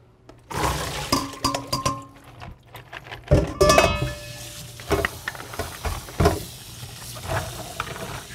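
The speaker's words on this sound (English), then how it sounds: "I'm going to drain this water again." Water draining off soaking dried corn being rinsed for nixtamal, with irregular splashes, trickles and wet clatters close by, separated by short quieter gaps.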